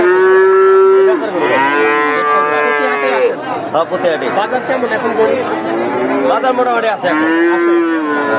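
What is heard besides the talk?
cattle mooing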